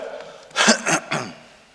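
A few short, harsh bronchitis coughs in quick succession, close to the listener, with quiet room noise before and after, during a Good Friday church service.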